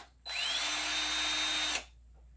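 A power drill bores screw holes while building a potato stacker: one steady, loud whine that starts suddenly, holds for about one and a half seconds, then spins down, with no talking.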